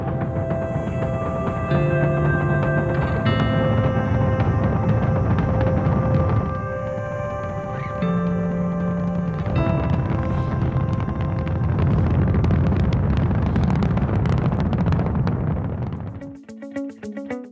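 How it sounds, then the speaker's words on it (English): Rocket engines roar at liftoff, a dense continuous rumble with wind-buffeted crackle that stays loud and steady for about sixteen seconds before cutting off abruptly near the end. "All engines running. Commit. Liftoff."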